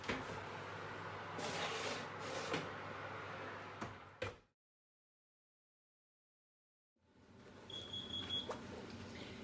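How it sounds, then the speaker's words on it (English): A fan oven's timer alarm goes off while Irish soda bread bakes at 180 degrees, a short electronic beep emerging after a stretch of silence over faint kitchen background noise. "There's my alarm."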